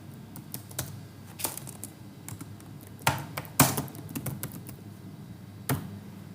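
Keys clatter on a computer keyboard as a name is entered into a pensioner CGHS card online application form, a run of close, irregular clicks with a few louder strokes and no talking.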